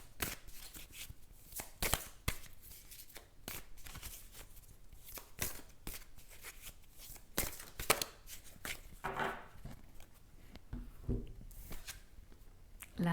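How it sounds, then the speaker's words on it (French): A tarot card drawn from a deck, with soft rustling, quick flicks and taps of cards handled close by, quiet and irregular throughout, with no talking. "je vais tirer une carte dans ce jeu"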